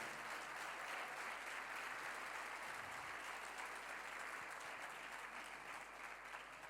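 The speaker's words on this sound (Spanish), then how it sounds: "Dele un aplauso al Señor." A church congregation gives a steady, full round of applause, even and unbroken throughout, with no voices rising above it.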